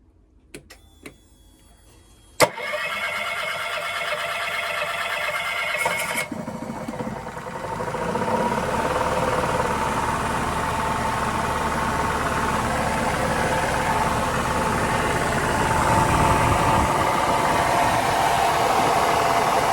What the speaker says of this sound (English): So here's a moment of truth. Let's give her a crank, see what happens.